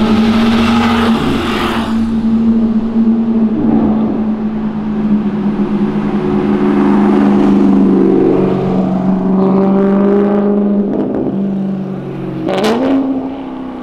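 A Chevrolet Opala roars loudly as its engine revs and accelerates, with a steady low drone that rises and falls in pitch, then falls back and climbs again near the end, heard up close with no talking.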